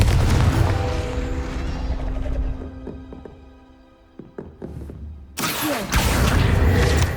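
A Confringo fire spell explodes in the Hogwarts Legacy video game: a loud, sudden booming blast that bursts out after a quieter stretch of dull thumps and taps, then stays loud with rumbling crackle.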